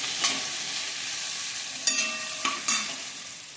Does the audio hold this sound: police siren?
no